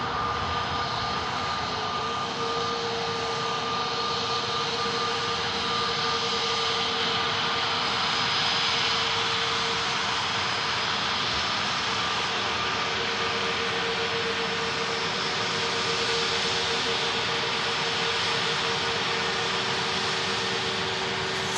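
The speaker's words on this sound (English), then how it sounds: "Yet another aircraft making the exit right in front of us here at Manchester's Runway Visitor Park." A SunExpress jet taxiing at Manchester Airport gives a loud, steady engine roar with a high whine running through it, sustained evenly and close by.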